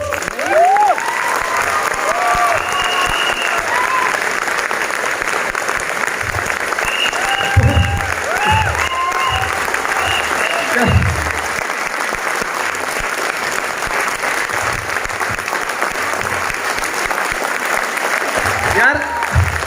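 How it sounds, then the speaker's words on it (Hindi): A large seminar audience in Odisha claps steadily and loudly throughout, a dense continuous wash of applause with scattered cheers and voices rising over it. "ऐसी तालियां बजाओगे तुम?"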